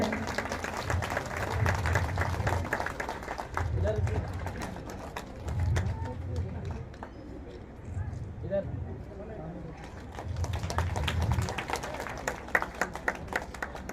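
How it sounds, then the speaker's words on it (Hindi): Villagers at a public dialogue meeting in Baisi gram panchayat clap for an honoured official, steady applause that swells and fades under loudspeaker speech and crowd noise. "जोरदार तालियां होनी चाहिए"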